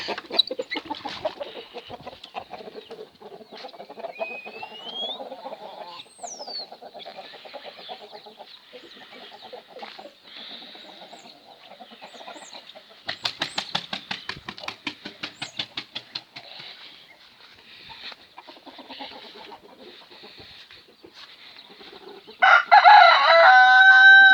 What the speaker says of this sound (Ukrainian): Так, тепер можна півників випускати.